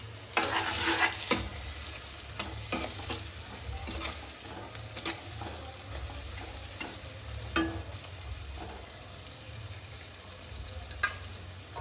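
Tomatoes and onions sizzle steadily in a hot pan, with scattered sharp scrapes and clinks from stirring over a constant low frying hiss, no voices.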